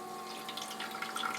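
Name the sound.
New Air ice maker filling with water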